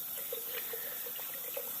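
Tap water runs steadily into a jar of bird seed to flush it, a close, continuous splashing stream with small gurgling bursts and no talking.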